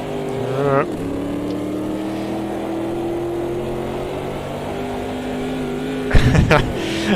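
A 1970s Corvette endurance race car in Automobilista 2 at Silverstone holds a steady, droning engine note with a gear-change blip early on. Near the end the revs jump abruptly, and a voice talks over the engine.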